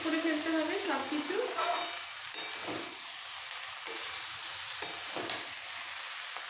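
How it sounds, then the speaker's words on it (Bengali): Vegetables for labra curry being stirred and mixed in a hot pan, sizzling with repeated scraping strokes of a spatula, close up, loud at first and then settling into a quieter fry. "এবার একটু মিক্স করে ফেলতে হবে সব কিছু।"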